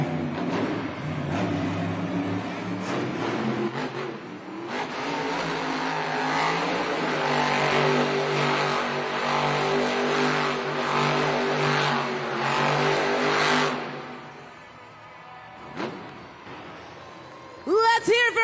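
The Dragon monster truck spins fast donuts on three tires in a Monster Jam arena in Sacramento, its engine roaring loud and sustained with shifting revs before easing off, while an announcer's voice carries over it.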